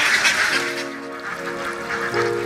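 Alabio laying ducks in a farm pen give a few nasal, honking quacks close by, over a breathy background hiss.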